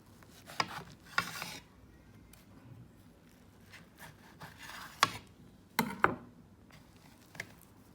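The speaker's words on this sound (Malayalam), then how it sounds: "നമുക്കിതൊന്ന് കട്ട് ചെയ്യാം" A knife slices through a green coriander-mint chutney sandwich with buttered bread, giving several short, close rasping cuts separated by quiet pauses.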